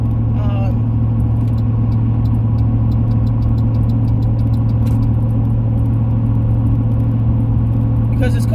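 A truck engine runs as it drives on a long road trip, a loud steady low rumble that holds evenly throughout, with a faint voice and some light ticking sounds on top.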